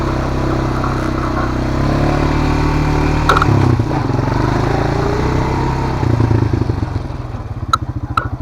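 A quad's engine runs steadily up close, rumbling and clattering as it rides along, with a brief change in pitch near the end.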